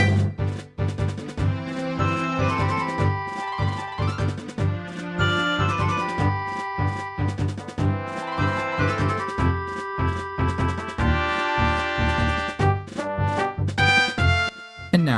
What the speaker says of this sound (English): Hyrule Field used to sound like this